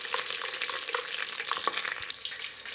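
Dried chilies, green chilies, curry leaves and asafoetida frying in hot oil for a thin rasam-style saaru, giving a steady, close, crackling sizzle with small pops throughout and no voices.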